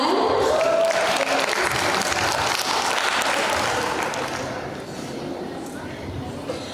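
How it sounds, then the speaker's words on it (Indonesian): Audience applause at a business incubator event for small business tenants, a dense sustained burst of clapping from a crowd that stays loud and then eases slightly toward the end. "mari kita berikan tepuk tangan"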